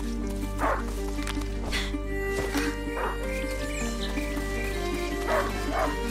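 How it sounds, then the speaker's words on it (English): Hunting dog in a video game barks a few scattered times, sharp yaps spaced apart over a steady humming game soundtrack. "A hunting dog! Is not supposed to lose its hunter."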